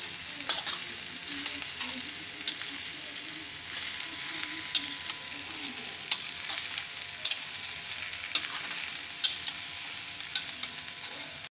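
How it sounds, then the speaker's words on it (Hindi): Okra (bhindi) and masala are stirred in a hot pan, a continuous sizzle of frying under repeated scraping taps of a spoon against the pan, close and steady, with no talking. "हम इसमें मसाला हिला रहे हैं अच्छे से हम इस मसाले को हिला देंगे"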